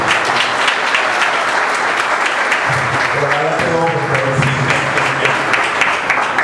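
Audience applause honoring a guest at a book presentation event, a dense, loud, continuous clapping crowd throughout, with a voice speaking partway through beneath the clapping.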